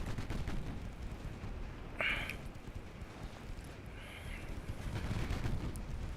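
Warship guns fire in the naval battle game Ultimate Admiral Dreadnoughts: two distant, muffled booms about two seconds apart over a constant low wind-like rumble.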